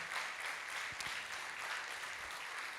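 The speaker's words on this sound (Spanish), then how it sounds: "¿Acaso no merece Dios un fuerte aplauso?" A congregation applauds during a church service, a faint, distant, even patter of clapping that lasts the whole moment with no voices over it.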